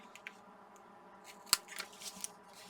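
Scissors snip through tape while a flip flap paper book is being made, a single sharp close cut amid faint rustling and light handling noises in a quiet room.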